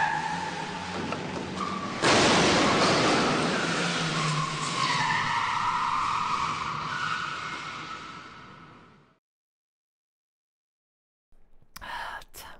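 A huge truck in a visual novel game skids with a long, loud tire screech that rises suddenly and drags on for several seconds, then cuts to silence before a brief final burst of noise.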